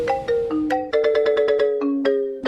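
A phone ringtone plays an incoming-call melody, a bright electronic tune of short stepped notes in a quick repeating pattern, loud and close with no talking.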